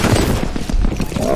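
Rapid, dense gunfire in the multiplayer shooter F.E.A.R. Combat sounds like loud, close bursts that rattle continuously. A voice can be heard over the shooting.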